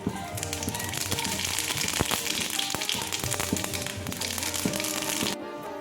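Radhuni seeds tempering in hot mustard oil with dried red chili and asafoetida, a steady close crackling sizzle with scattered pops throughout, cutting off abruptly near the end.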